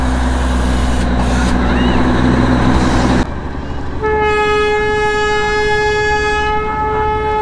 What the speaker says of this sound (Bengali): এই রে ট্রেনও মনে হয় ছেড়ে দিচ্ছে।